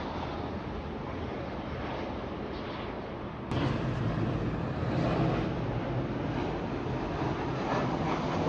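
Aircraft at Miami International Airport heard from a hotel balcony overlooking the north side of the field, a distant broad jet roar that swells partway through, with wind in the background.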